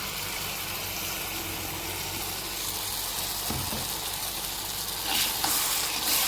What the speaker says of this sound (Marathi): ते पण छान तेल सुटेपर्यंत आपल्याला परतून घ्यायचं आहे